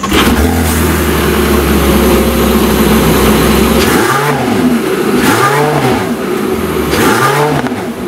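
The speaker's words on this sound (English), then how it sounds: "see what it sounds like when it starts up" A warm Porsche 918 Spyder engine cranks and fires up, then revs in three rising-and-falling bursts over a steady idle, loud and close.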